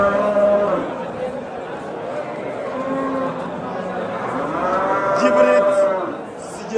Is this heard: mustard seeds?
no